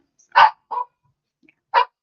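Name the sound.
dog barking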